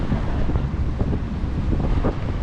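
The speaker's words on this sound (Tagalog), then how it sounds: "Grabe lakas ng hangin dito sa bandang Calabiti." Strong gusting wind roars across a boat at sea between Mindoro and Navotas, buffeting the microphone in a constant loud rush, with a low rumble and the wash of water beneath.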